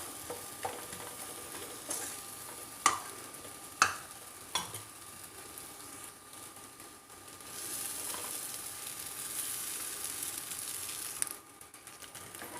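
Soaked sabudana (sago) being stirred in a pan for sabudana kichdi, with a few sharp spoon scrapes and knocks early on, then a steady soft sizzle and shuffling under the stirring.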